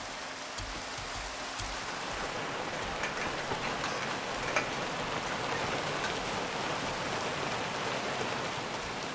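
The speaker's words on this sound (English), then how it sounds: "the other one makes the rain make different sounds depending on what block it's hitting" Rain pattering steadily on different block surfaces in a modded Minecraft game, a dense continuous hiss of drops with scattered close ticks and taps, heard alone without talk.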